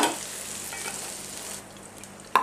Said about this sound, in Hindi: बिल्कुल अच्छी तरह से फ्राई नहीं करेंगे, बस हाफ डन करेंगे इसको हम